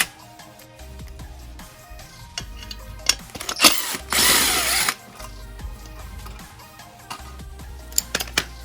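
A power driver removes screws from a gas water heater in one short, loud whirring burst, with clanks and handling knocks before and after it nearby.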